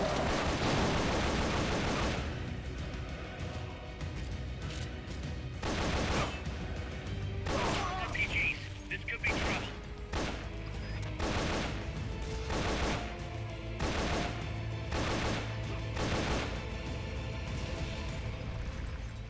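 Sustained gunfire in the video game Metal Gear Solid: Peace Walker: rapid bursts and repeated sharp shots, dense automatic fire at first, then spaced volleys with crashes and clatter.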